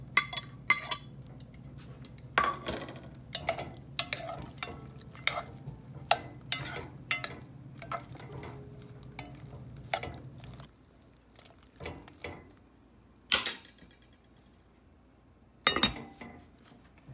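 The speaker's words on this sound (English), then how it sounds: "I stir that all together and let it simmer" Fresh mushrooms are stirred into meat simmering in a pot, with repeated spoon clinks and scrapes against the pot over a soft bubbling background, then sparser knocks near the end.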